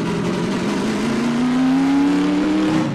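A loud car engine revs and climbs in pitch, a synthetic motor in Half-Life 2: Episode Two roaring steadily before easing off near the end.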